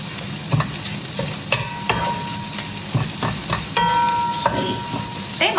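Nasi goreng with cabbage is stir-fried in a pan, with a continuous sizzle broken by clattering scrapes and knocks of a utensil against the metal.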